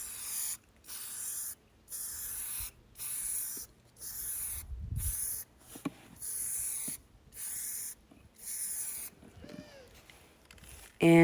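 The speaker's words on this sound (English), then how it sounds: "I had put on 3 coats total of the copper spray paint" Antique copper spray paint is sprayed onto a metal stock tank being made into a garden box, in about nine short, close hissing bursts separated by brief pauses.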